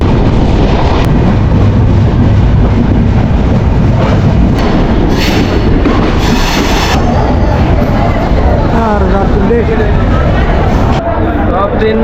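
A non-stop broad gauge express train on the Dhaka to Chapainawabganj route rumbles and clatters steadily along the rails, loud and close, with a constant murmur of voices underneath.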